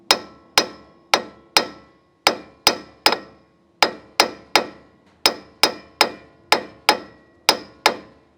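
Sharp metallic hammer blows knocking cone washers loose from a Landcruiser swivel hub, about eighteen loud ringing strikes in uneven groups, close and alone.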